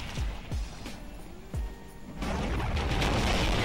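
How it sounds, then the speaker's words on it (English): Several sharp booming explosions go off in the video game Dark Souls 2, coming in quick succession at a moderate volume, then fading into a rougher, sustained rumble. "Very big explosions intimidate me."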